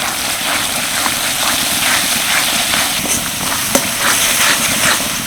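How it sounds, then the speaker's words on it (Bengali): Cumin, coriander powder and chilli powder fry vigorously in a pan for chicken ghugni, giving a loud, continuous sizzle with scattered scraping stirs and one sharp clink near the middle. "এবার মশলাটা ভালো করে কষিয়ে নেব"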